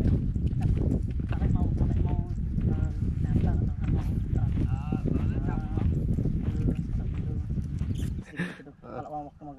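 A horse's hooves clip-clop in a continuous rhythm during a test ride before purchase, close and fairly loud, with people talking throughout.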